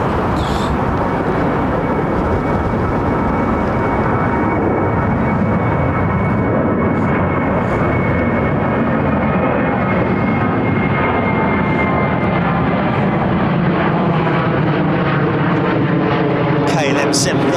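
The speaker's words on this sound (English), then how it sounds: "KLM 737 CFM 56 power." A KLM Boeing 737 powered by CFM56 engines departs overhead from London Heathrow's runway 09R, a loud, sustained jet roar that swells and shifts in pitch as it passes close above.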